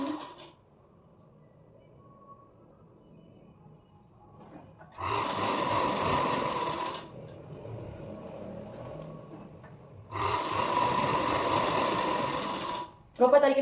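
Sewing machine stitching a princess-cut deep-neck blouse, two loud close bursts of rapid motor whirring a few seconds each, separated by quiet pauses with faint handling.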